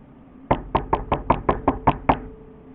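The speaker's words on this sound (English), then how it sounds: "Who is that knocking at the door?" Nine firm knocks land on a door in an even, brisk rhythm, each one sharp and close, followed by quiet.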